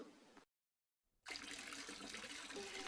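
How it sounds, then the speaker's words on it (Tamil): Water gushes from an overflowing full tank in a Tamil cartoon household scene. After a short silent break, a steady, dense rush of running water resumes and carries on. "அந்த டேங்க் நிறைஞ்சி தண்ணி விட்டது காதுல விளையாடையா?"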